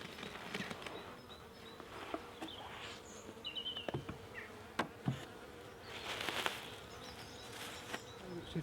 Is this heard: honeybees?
yes